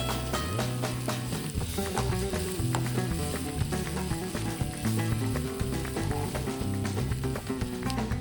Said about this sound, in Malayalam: നന്നായിട്ട് നമുക്ക് ഒന്നിച്ച് കൂട്ടി യോജിപ്പിച്ച് മൂപ്പിച്ചെടുക്കാം